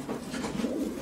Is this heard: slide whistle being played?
no